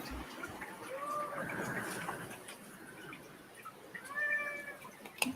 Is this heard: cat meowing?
yes